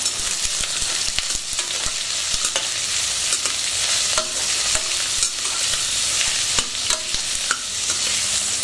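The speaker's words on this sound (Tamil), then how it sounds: "வெங்காயம் வந்து நல்லா வதக்கணும்." Onions sauté in a pan for biryani, giving a loud, continuous sizzle up close with frequent clicks and scrapes of a stirring spoon and no talking.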